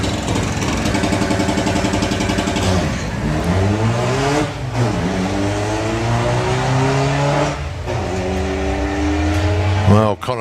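Loud engines of an Audi and a Volkswagen Beetle drag racing down the strip, revving hard with rising and falling pitch sweeps through gear changes, close and dominant.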